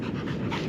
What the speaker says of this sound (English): You good dog, you get the stick?